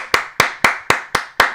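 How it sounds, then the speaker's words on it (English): Six slow, evenly spaced hand claps from a single person, close and crisp, with a steady rhythm and no voices. "I want to see some applause"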